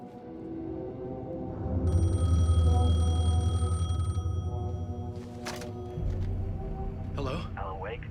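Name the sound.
payphone ringing in video game Alan Wake 2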